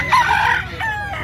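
A gamecock at a cockfighting-bird auction crows once in a strong, drawn-out call, loud and close, with crowd murmur and other voices underneath.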